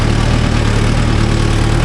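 A Mahindra Yuvo Tech Plus 575 4WD shuttle-gear tractor engine runs steadily close by, a loud, continuous low diesel drone with a constant rumble and no voices.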